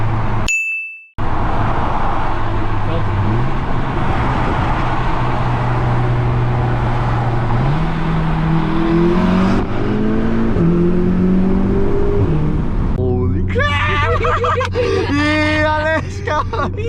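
A Stage 2 turbocharged Audi S3 accelerates hard, its engine note climbing through several rising gear pulls, loud and close from inside the car, with excited voices shouting over the roar near the end.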